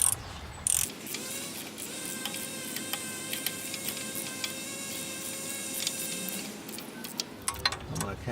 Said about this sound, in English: I'm going to kind of get them all snug down first, and then I'll torque them down.